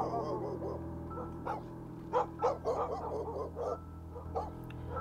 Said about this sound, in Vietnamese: Những con chó trên hai bên đường cũng sủa lên inh ỏi.